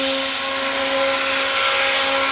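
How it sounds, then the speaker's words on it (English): An old hand blender whirs steadily while mixing homemade soap, a continuous motor drone with a faint grinding crunch from its worn parts, close and constant with no talking. "that crunching sound, that's because we got a really old blender"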